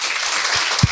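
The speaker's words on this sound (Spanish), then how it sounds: "denle un aplauso al Señor." A church congregation applauds during a Spanish-language sermon, a dense, steady wash of clapping from many hands that fills the whole brief moment, with a couple of louder nearby claps.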